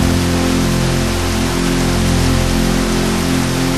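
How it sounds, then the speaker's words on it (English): Steady, dense hiss of rain falling in a video game world, loud and continuous throughout with a constant low hum underneath and no voices. "I don't like the rain."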